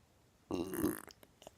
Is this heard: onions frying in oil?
no